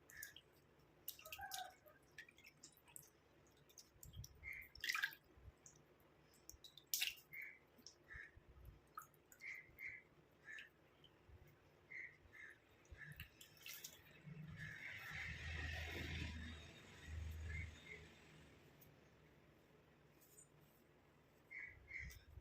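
Water is splashed onto a face at a sink, with scattered drips and wet squishing sounds and a short, louder run of splashing partway through, quiet and close with no talking.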